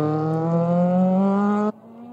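A Formula racing car on an outlap at Estoril screams past at high revs, its steady rising engine whine cutting to a lower tone as it shifts or passes away.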